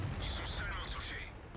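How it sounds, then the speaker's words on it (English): A 90mm tank gun on the ELC AMX, a low-profile French light tank in World of Tanks, fires one booming shot into a T-150, its roar dying into a rumbling tail as a voice talks over it. "Sundu puts a great shot into the T-150 there"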